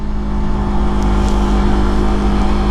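A Yamaha R motorcycle rides along at sunset, its engine a loud, steady droning hum with strong low rumble and wind rush throughout, no talking.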